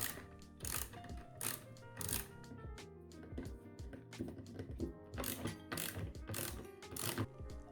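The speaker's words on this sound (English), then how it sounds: "Undo all 6 bolts." Bolts being undone on a Fanatec QR2 steering wheel quick release with a ratchet, quick close clicking bursts in uneven runs, quiet and without talk.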